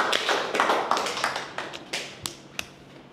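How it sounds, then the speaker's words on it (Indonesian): A classroom breaks into brief applause during a micro-teaching lesson: a quick burst of clapping from a small group that thins out into a few scattered, separate claps. "Tepuk tangan."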